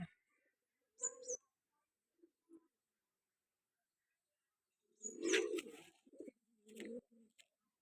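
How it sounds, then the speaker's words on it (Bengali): A pair of Mettraj pigeons coo in quiet bursts close by, with short soft calls separated by silence and a longer throaty coo near the end. "কি পায়রা এ দুটো?"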